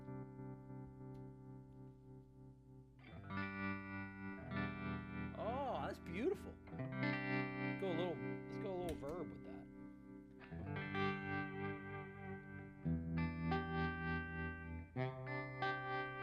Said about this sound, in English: so it's got different sine waves for your tremolo